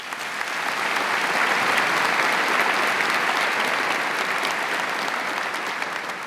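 Sustained applause from a crowd at a jubilee church celebration, dense clapping that holds steady for several seconds with no voices on top.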